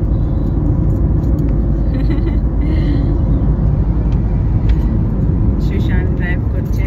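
A car cruises along the Jaipur highway with a steady, loud low rumble of engine and road noise throughout, faint voices occasionally audible beneath it.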